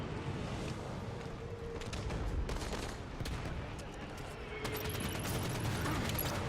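Gunfire in the Halo 5 Guardians video game, with rapid bursts of shots and mechanical clatter over steady game ambience, moderately loud.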